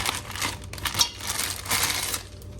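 Butterscotch chips poured into a pot of melted mixture for confetti bars patter and rattle in quick bursts of small hard clicks, moderately close and with no voices.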